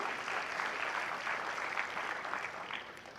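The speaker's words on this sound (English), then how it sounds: "Give our experienced faculty a round of applause for all that they do." Steady applause from a graduation crowd for the faculty of the Virgin Islands School of Technical Studies. Continuous dense clapping, moderately distant, holds level for the whole stretch.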